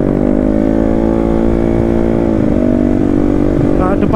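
A Yamaha Mio scooter bored to 200cc, rated at 25 HP, revs hard on a test ride in dense traffic, its loud steady engine note dropping in pitch partway through and then climbing again near the end.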